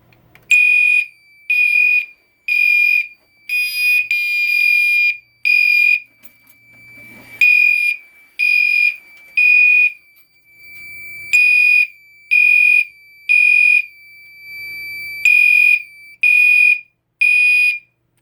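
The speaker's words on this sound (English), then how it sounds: "A test of the smoke detector for you, Ben Lester." Smoke detector alarm during a system test, sounding loud, piercing high-pitched horn blasts in repeated pulses with short gaps, the rhythm shifting between longer and shorter bursts, close and alone.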